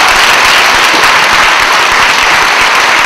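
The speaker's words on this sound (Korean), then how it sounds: "아름다운 교회에서 박수 한번 쳐줬으면 좋겠어요." Church congregation applauding together, a dense, steady wash of clapping filling the room loudly and continuously throughout, with no voices over it.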